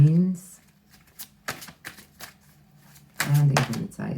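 Tarot cards shuffled by hand in short riffling bursts, close and crisp, broken up by someone talking between the shuffles.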